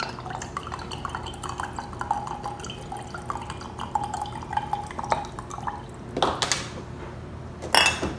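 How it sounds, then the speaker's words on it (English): Balsamic vinegar of Modena trickles into a bowl in a kitchen for a salad dressing, a soft dripping liquid pour with light clinks of glass and dishes, followed by a couple of louder splashy bursts near the end. "I think I'll use this little bit of the Modena vinegar that I have on hand."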